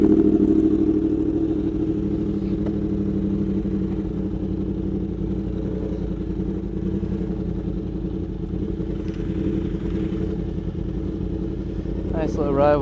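A Yamaha R1 and a BMW S1000RR sport motorcycle ride together at night, their engines droning steadily and loudly up close with a sustained mid-pitched hum and rising revs near the end.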